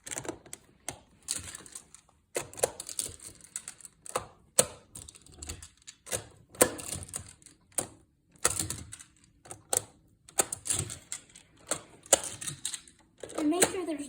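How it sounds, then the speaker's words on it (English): Magna-Tiles magnetic squares laid out one after another to build a warship deck, heard as many light plastic clicks and clacks in an irregular rhythm, close but quiet. "Now you'll need to grab 20 more squares and lay out the deck."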